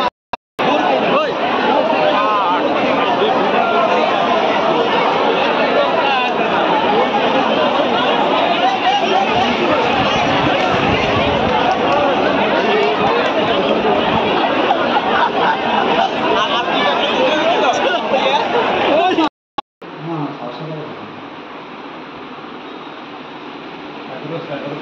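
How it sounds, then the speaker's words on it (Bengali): Dense crowd chatter at a packed Digha train station with a train standing at the platform, a continuous loud babble of many voices close around, cutting abruptly near the end to a quieter, thinner murmur. "লোক প্রচণ্ড ভিড় দীঘাতে আজ"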